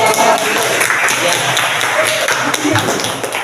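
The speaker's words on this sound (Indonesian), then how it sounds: "Tepuk tangan untuk" A classroom group claps continuously, dense and loud, with voices mixed in beneath the applause.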